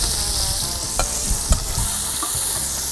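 Onions sautéing in a hot pan for lobster paella cooked by the beach, with a steady loud sizzle broken by a few scraping stirs of a utensil; no voices.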